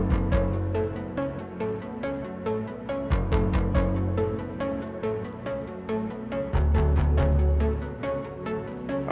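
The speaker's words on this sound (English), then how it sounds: "we've got this subby kind of dirty bass. We've got these muted pianos kind of doubling that" Instrumental verse from an arranged track with no drums, built on a dirty, subby bass doubled by muted pianos; dense and steady, with bright plucked accents recurring through the passage and a heavier low swell near the end.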